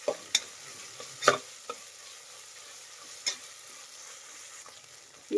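Onions and ginger garlic paste frying in a pan give a low steady sizzle broken by sharp, scattered spatula scrapes and taps against the pan, close by.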